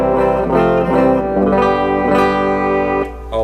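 Electric guitar through an amplifier's clean channel with the tone knob turned fully down: a few sustained, dark, mellow chords and notes ringing close and loud, alone without talk.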